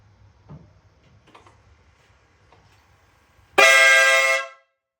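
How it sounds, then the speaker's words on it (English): A loud, sustained blast of about a second from an aftermarket dual air horn kit on a Mercedes-Benz, rich with bright tones, follows a few faint clicks and knocks in near silence. "give you a quick sample of the air horn"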